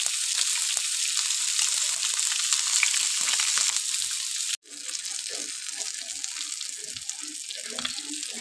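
Fish fries in a pan of hot oil, giving a steady close sizzle that cuts out for an instant midway and then resumes with faint low kitchen sounds.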